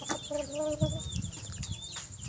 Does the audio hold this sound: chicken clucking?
yes